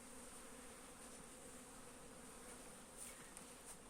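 A steady, dense buzzing of many honeybees flying out of their hive close by, continuous and fairly quiet, with a few brief louder passes near the end.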